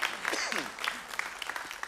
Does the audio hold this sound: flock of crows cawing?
no